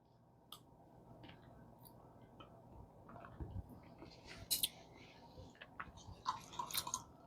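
Someone chews a bite of salmon dressed with lemon juice, salt and pepper, with soft, close, irregular mouth sounds and occasional small clicks and crunches. A quiet voice is faint in the background.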